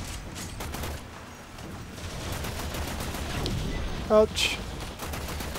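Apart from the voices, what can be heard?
gunfire in the video game Warframe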